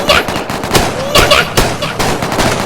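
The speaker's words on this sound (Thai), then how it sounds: "โอ้ปืน ปืนลูกสอง ช็อตกัน" Shotgun blasts from a double-barrel gun in the Roblox game, several loud sharp bursts at an uneven rhythm with a voice talking between them.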